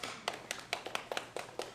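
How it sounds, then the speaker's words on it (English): A string orchestra class applauding briefly in a room, a thin patter of separate hand claps rather than a full burst, several quick uneven claps close together, fairly quiet. "Give yourself a round of applause."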